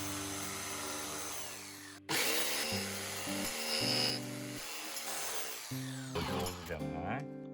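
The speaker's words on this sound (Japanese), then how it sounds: "これで全く同じ線まで描けるジグソーで切っていきます。" Jigsaw cutting a curve into a natural wood camp table top, a loud buzzing blade stopping briefly, then restarting in several bursts of varying pitch.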